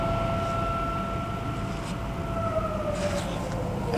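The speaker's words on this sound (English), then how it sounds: "Now we get our sirens." A distant siren wails in steady tones that slowly fall in pitch, heard over a loud, constant rumble of traffic or wind.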